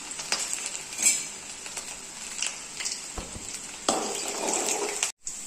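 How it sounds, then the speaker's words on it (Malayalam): Garlic fries with mustard seeds in a pan as a spoon stirs it, giving a soft, steady sizzle with scattered light scrapes and clinks close by, no talking, cutting out abruptly near the end. "ഒരു ഇളം ഗോൾഡൻ കളറാവുമ്പോൾ നമുക്ക് അതുവരെ ഒന്ന് ഇളക്കി കൊടുക്കാം."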